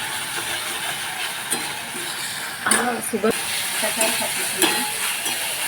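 Ground chili paste hits hot oil and sizzles with a steady hiss, close and moderately loud, with stirring clatter and a voice talking over it.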